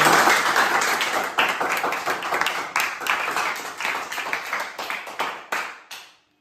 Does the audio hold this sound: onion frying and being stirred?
no